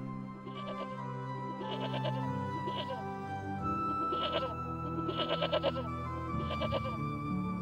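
Sheep bleating in a cartoon scene after falling into a ravine, several wavering, strained bleats coming in bursts over a background of music and voices.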